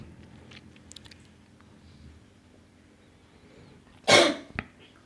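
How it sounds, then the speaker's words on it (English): A person coughs once, sharply and fairly close, during a quiet guided meditation, followed by a softer short cough; the rest is near-silent room tone with faint scattered noises. "oh, you're coughing"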